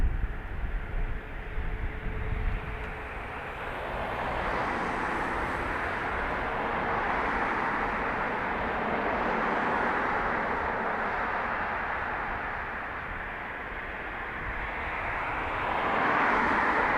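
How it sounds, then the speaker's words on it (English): Heavy jet engines spool up at Dublin Airport, a broad continuous roar rising and holding steady at a distance, swelling again toward the end with no talk over it. "I'm hearing noises like engines starting up"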